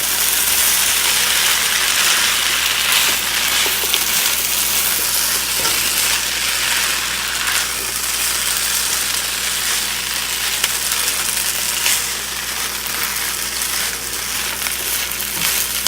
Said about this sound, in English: I'm going to add the eggs in now. I got 3 eggs in here, pre-scrambled.